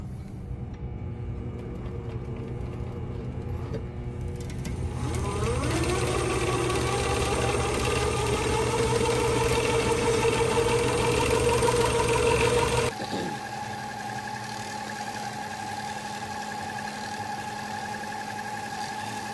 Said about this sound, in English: We're going to start spooling it up, getting our line counter going